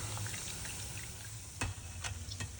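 Ripe bananas fry in hot oil with a steady, quiet sizzle close by, marked by a few sharp clicks of a utensil against the pan.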